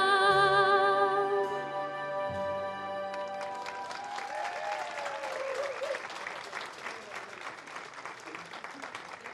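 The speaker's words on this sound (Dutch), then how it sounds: "En bedankt voor het applaus." Audience at a village community evening breaks into applause after a recited poem, following a sustained musical tone; steady clapping from a moderate crowd continues to the end.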